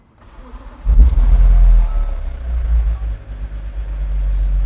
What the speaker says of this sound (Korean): S56 엔진이 들어가 있는데 그 엔진 소리를 한번 들려드리도록 하겠습니다